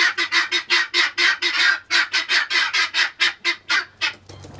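Birds squawk loudly and repeatedly, a fast run of harsh calls close by, roughly a dozen bursts in under five seconds with almost no gap between them.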